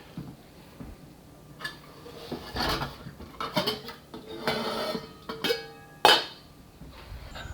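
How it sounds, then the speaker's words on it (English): A spoon clinks and scrapes against a pan while homemade Hollandaise sauce is stirred, several irregular metallic knocks and scrapes at close range, with one sharper clink near the end and quiet gaps between strokes. "we're going to dish up our Hollandaise, give it a quick little stir"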